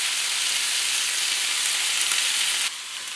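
A fish fillet sizzles skin side down in a hot pan, a loud, steady, close frying hiss that drops slightly in level near the end, with no talking.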